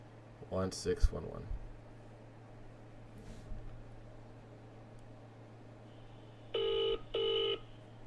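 Touch tones sound as a phone number is dialed to reach a support line: near the end come two steady electronic beeps, close and clear over a constant hum, after some brief clatter and handling earlier on.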